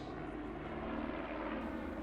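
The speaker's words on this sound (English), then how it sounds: "there is a formation jet aerobatic team flying the Strikemaster in the UK once again" A BAC Strikemaster jet of a formation aerobatic team flying at the Midlands Air Festival 2018 airshow, heard as a brief, steady, fairly loud engine roar with no voices.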